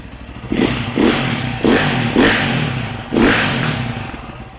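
A KTM motorcycle engine runs again after a kinked fuel hose is fixed, idling roughly between five sharp, close throttle blips that each fade back down.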